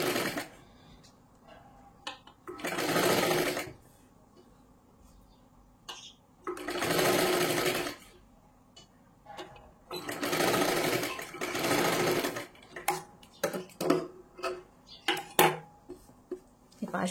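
A sewing machine stitches around the round neckline of a four-tuck blouse in three steady bursts of whirring, separated by short pauses and ending in a flurry of brief starts and stops.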